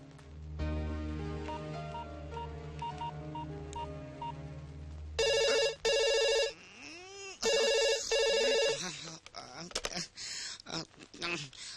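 A telephone rings in two clear bursts of a repeated electronic ring, preceded by a musical tone sequence, with room noise and brief sounds afterward.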